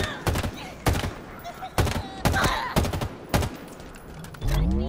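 Gunshots ring out in Halo Infinite gameplay, a run of sharp, loud cracks that come in short irregular bursts and clusters, with some low thuds and a rumble near the end, while a player talks between them.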